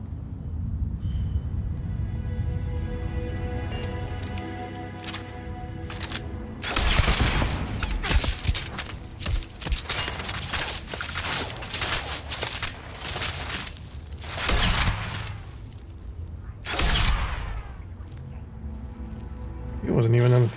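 Turrets firing in the Starfield video game, repeated bursts of gunfire and sharp blasts over a continuous droning rumble, loud and dense, with a voice talking intermittently over the action.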